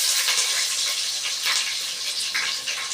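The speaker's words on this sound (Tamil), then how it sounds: "இதே நம்ம வெள்ளைப்பூடை எண்ணெயிலே போட்டு நல்லா வதக்குறோம்" Chopped garlic fries in hot oil with mustard seeds, a loud, continuous, close-up sizzle with bursts of crackling.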